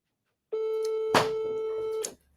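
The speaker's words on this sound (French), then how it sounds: "décroche le téléphone, s'il te plaît" A telephone tone sounds on its own: a single steady electronic beep lasting about a second and a half, loud and close, with a faint click partway through, then silence.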